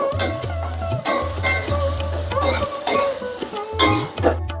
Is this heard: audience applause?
no